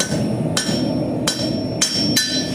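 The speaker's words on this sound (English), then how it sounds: "I find a nice spot on my anvil. I do a set down." A blacksmith hammers a nail set down on an anvil: four loud, ringing metallic strikes spaced about half a second apart over a steady background hum, close up and with no voices.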